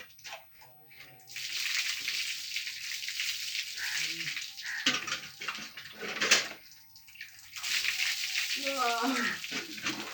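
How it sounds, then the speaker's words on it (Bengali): Warm water poured and splashing steadily while hair is rinsed during a bath, a continuous close rush broken by short pauses, with voices talking over it. "হয়ে গেছে, এবার ঠান্ডা ঠান্ডা গরম জল দাও।"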